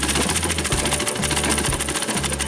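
A sewing machine stitches a handmade sleeping pillow in steady, motor-driven bursts, a close, loud mechanical hum that pauses briefly between runs.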